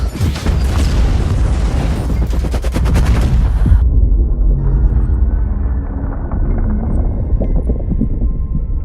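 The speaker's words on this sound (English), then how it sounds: "the deep sea nuclear explosion was pretty dope" A loud, dense explosive roar of a deep-sea nuclear explosion in the film Underwater (2020), with crackling blasts, rolls on for several seconds, then drops into a deep, rumbling aftermath.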